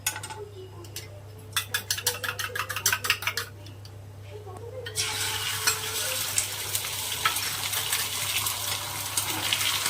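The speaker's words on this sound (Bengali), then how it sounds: "ও তুমি আরও একটা ডিম ভাজলে" An egg frying in a pan at home sizzles steadily, with stirring and clinking of utensils early on before a broad, continuous sizzle fills the rest.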